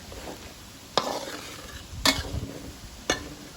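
Garlic fries in oil to make crispy golden fried garlic, a steady low sizzle punctuated by three sharp stirring clacks against the pan, close and without speech.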